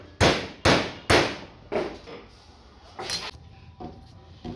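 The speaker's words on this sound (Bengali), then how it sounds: "ওই 4টা ছিদ্রের মধ্যে স্ক্রু এভাবে হালকা একটু বাড়ি দিয়ে" Screws are tapped lightly into four holes in a farm hand tool, producing a series of sharp knocks: three strong, evenly spaced taps, then several softer ones, close by.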